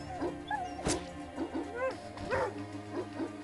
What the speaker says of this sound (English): So that was a different dog.